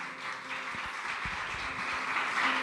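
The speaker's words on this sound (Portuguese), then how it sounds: "Você pode aplaudir ao Senhor por isso?" Congregation clapping in a church during a Mother's Day service, a steady wash of many hands applauding at moderate level, with some low tonal background sound underneath.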